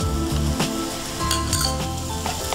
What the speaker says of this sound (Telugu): ఇప్పుడు క్యాప్సికమ్ వేద్దాం